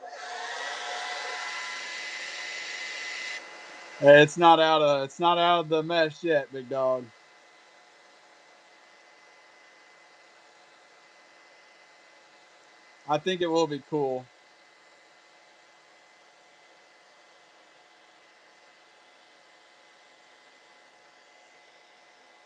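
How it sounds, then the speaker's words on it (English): A hair dryer blows steadily on fresh paint at the start, a smooth airy rush that cuts off before someone talks briefly, with a second short burst of speech later over near silence. "let's hit it with the hair dryer and we'll see what we're working with."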